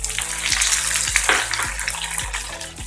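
Vegetables, including soaked potato and brinjal, tossed into a hot pan of crackling mustard seeds, asafoetida and sesame for bhogichi bhaji, frying with a loud steady sizzle and splashy hiss, with rhythmic low clatter from stirring.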